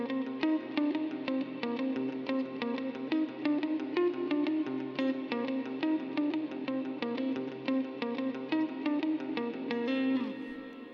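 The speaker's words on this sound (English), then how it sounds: "I had my clean tone with all the reverb on and stuff like that, and maybe a bit of delay" Clean electric guitar arpeggios ring out with heavy reverb and echo, notes repeating and trailing off in a washy, steady pattern, with no voices.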